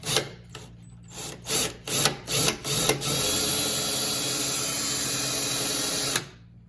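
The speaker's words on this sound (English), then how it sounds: "grab your 5/16 drill bit and go ahead and start drilling" A 5/16 drill bit bores holes through the underside of a car hood: several short bursts of power-drill whine, then one long steady run of drilling, close and loud with no talk.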